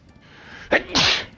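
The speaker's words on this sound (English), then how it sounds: "13 sneezes today." A single sharp human sneeze, a short breathy intake followed by a loud explosive burst, close and alone against quiet room tone.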